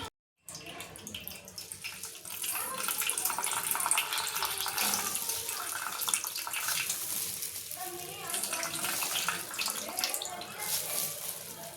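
Liquid drips and trickles steadily as ground taro paste is squeezed through cloth to press out its milk, a close, continuous wet splashing that runs almost the whole time.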